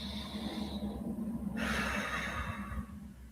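A person takes a slow, deep breath in and then lets it out, soft and close, with no talk.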